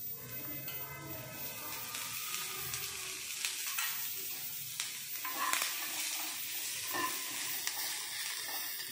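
Oil crackles and hisses in a pan as onion, tomato and paneer fry, a dense continuous sizzle broken by stirring scrapes and clacks, close up and alone.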